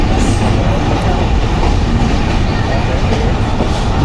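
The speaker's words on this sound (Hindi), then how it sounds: "शाम के 4:37 पे ट्रेन अप्रोच कर रही है पब्बी रेलवे स्टेशन पर" The Khushhal Khan Khatak Express rolls loudly and close into Pabbi railway station in Nowshera district, with a steady heavy rumble and clatter of wheels on track.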